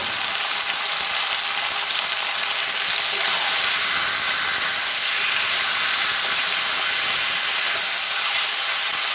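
Chicken with garlic and chilli paste being stirred in a frying pan, a loud steady sizzle and hiss filling the whole stretch with faint scraping beneath, no voices.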